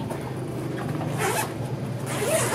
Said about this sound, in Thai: รูดซิปออกมาได้สองฝั่งด้านนี้นะคะ